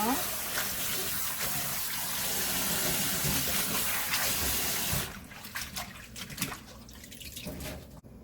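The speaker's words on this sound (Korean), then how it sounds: "흐르는 물에 한 3분 정도 깨끗하게 씻어주세요" Napa cabbage leaves rinsed under a running tap: a steady, loud gush of water for about five seconds, then the flow stops, leaving scattered drips and wet handling sounds.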